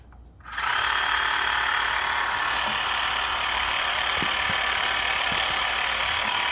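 A&M Moto Toys battery-powered tire pump starts abruptly and then runs loud and steady, a constant motor buzz with a faint pulsing compressor knock while inflating a tire, with no talking.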